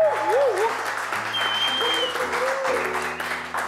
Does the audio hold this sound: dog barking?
no